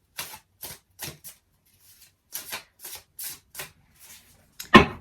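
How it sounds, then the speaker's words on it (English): Shadowland Tarot cards shuffled by hand in a quiet room, a series of close, short riffling bursts with pauses between them, ending in a sharper slap as the deck is squared. "they shuffle really nicely."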